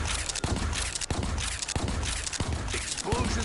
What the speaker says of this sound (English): Explosion went exactly as planned. It exploded.